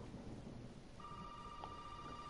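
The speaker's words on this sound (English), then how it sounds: "Phone's ringing." A phone rings in the video game Resident Evil 7, a steady electronic tone that starts partway through and continues quietly over a low, rumbling ambient background.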